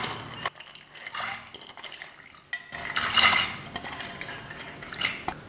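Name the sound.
soaked cowpeas (karamani) added into pressure cooker with water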